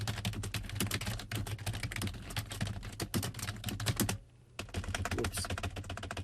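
Lyrics are typed on a computer keyboard in Sibelius notation software, a dense, close patter of rapid key clicks that pauses briefly once before resuming at the same quick pace.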